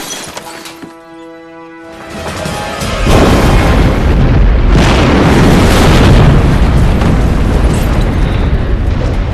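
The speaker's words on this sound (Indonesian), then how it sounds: "sebelum bomnya meledak" A bomb exploding in a car during a film scene, a tonal ringing lead-in cut off by a massive booming blast that rolls into a long, loud, sustained roar of debris and rumble.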